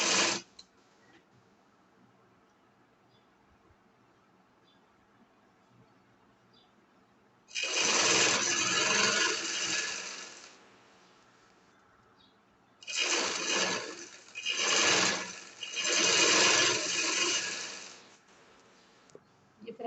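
An electric sewing machine stitching a drawstring casing on a shirt: a steady, close whirring run of several seconds, then after a pause three more bursts of stitching in quick succession, with a quiet room between runs.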